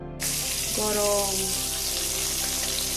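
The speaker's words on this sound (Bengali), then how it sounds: "আগে পেঁয়াজ ভাজবো" Onions frying in hot oil in a pan while fish is being cooked, giving a steady close hiss and sizzle that starts abruptly and continues throughout, with a brief tonal ring partway through.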